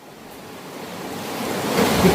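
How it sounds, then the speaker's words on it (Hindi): Heavy rain pours down outdoors as a dense, steady hiss of water that slowly swells louder, with no voices over it. "कितना ज़्यादा जोर से पानी बरस रहा है"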